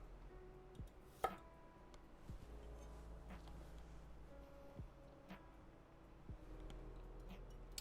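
Knife trimming vegetables on a cutting board, likely celery and carrots: a few sharp chopping taps spaced irregularly, close and moderately loud, with quiet kitchen background between.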